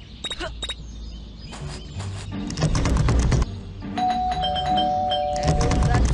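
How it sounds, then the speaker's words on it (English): A doorbell in the video game Scary Teacher 3D rings out in repeated bright chimes, loud and near, with game sounds and a brief sustained tone between the rings. "There is that stupid bell again."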